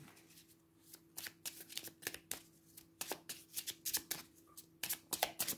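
Oracle cards being shuffled by hand, a rapid series of crisp papery riffles and flicks in uneven bursts, close and clear with no talking.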